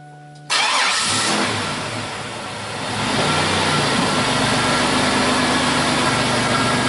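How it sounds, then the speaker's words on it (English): A car engine cranks briefly, then catches and starts, settling into a steady running idle that rises slightly as it revs, close by. "we'll crank the car over"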